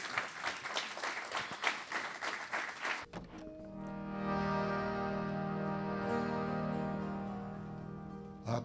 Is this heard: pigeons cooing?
no